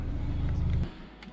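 A BMW E90 320d diesel saloon is being driven, heard from inside the cabin as a steady low rumble of engine and road noise. The rumble eases off slightly near the end of the short stretch.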